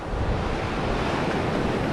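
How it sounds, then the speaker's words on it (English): Ocean surf rolls in at New Smyrna Beach on an incoming tide, a steady broadband wash of breaking waves with some wind rumble, with no voices over it. "As the tide's coming in, the surf's getting bigger."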